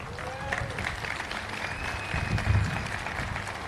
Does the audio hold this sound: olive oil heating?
no